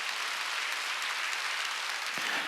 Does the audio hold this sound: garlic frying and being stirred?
no